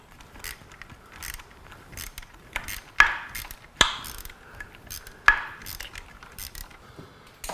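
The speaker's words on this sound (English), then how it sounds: "we're gonna just start to wrench on them, tighten them down" A wrench ratchets as it tightens screws on the front fairing stay of a BMW S1000RR motorcycle, giving quick clicking runs broken by a few sharp metallic knocks, close and without talk.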